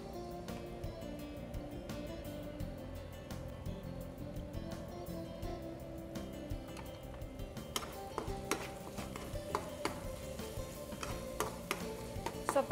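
Masala with tomato frying in a pan for pepper chicken varuval, a steady sizzle with occasional stirring scrapes and clicks, close and moderately loud, with no talking.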